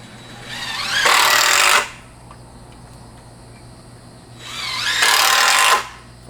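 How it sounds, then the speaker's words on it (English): Power drill driving screws into a 2x4 frame for a chicken coop, two loud whirring bursts of about a second each with rising pitch as the screw bites, separated by a quiet pause with a faint hum and insect chirps. "Putting 3 screws in there so it won't twist when you're opening and closing it."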